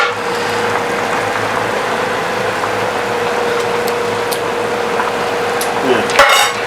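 Catfish curry boiling in a pot is stirred, giving a steady bubbling, sizzling wash throughout with a faint hum, a few light utensil clinks, and a brief louder scrape of a spoon against the pot near the end.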